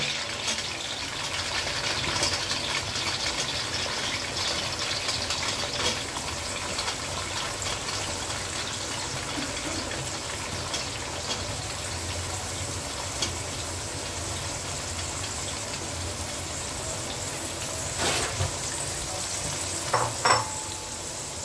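Chopped cauliflower fries in hot ghee, giving a steady soft sizzle with occasional stirring and scraping for about twenty seconds.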